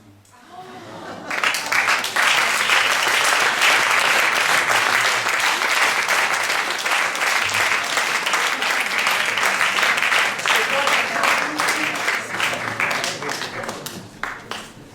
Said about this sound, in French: Je crois qu'on peut les applaudir encore.